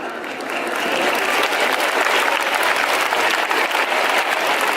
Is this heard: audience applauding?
yes